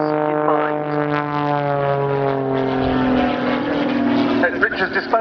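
A heavily modified Pitts Special aerobatic biplane with an 8.5-litre six-cylinder engine, droning loudly at an air show with strong steady harmonics that shift slightly in pitch as it passes.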